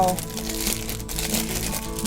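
A clear thin plastic curry bag of the everyday kind is handled up close, crinkling and rustling continuously while someone talks over it.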